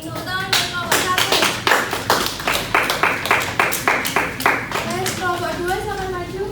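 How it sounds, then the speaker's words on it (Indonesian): A classroom group claps in a strong, even rhythm for a presentation group during a microteaching session, with voices chanting along at the start and the end. "Tepuk tangan untuk kelompok 1."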